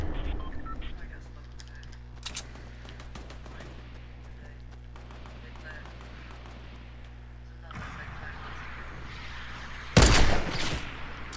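Grenade launcher fire in Fortnite, sharp blasts near the start and a loud burst near the end, over busy game noise and a steady background hum.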